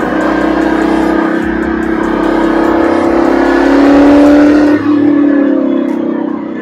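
A Shelby car's engine revs hard and roars near and loud at a hill climb below Table Mountain in Cape Town, a sustained throaty drone that climbs in pitch then briefly drops as the throttle lifts.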